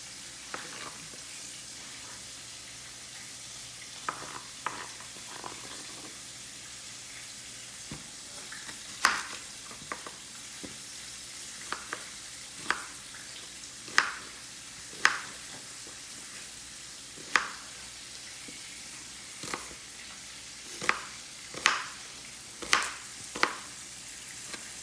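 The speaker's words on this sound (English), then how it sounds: "You can hear that fish frying in the background, a nice crackling sound." Lake trout fries in a pan with a soft steady sizzle, punctuated by sharp crackles and pops that grow more frequent over time, close by with no talking.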